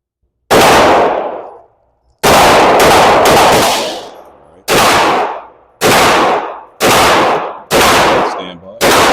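Gunshots from a handgun at an outdoor shooting range, seven loud, sharp reports fired close by, each ringing briefly before the next, spaced irregularly with quicker pairs toward the middle and end.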